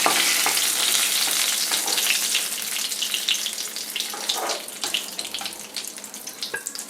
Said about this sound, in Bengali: আমি এইভাবে বাকি পটলগুলো ভেজে নেবো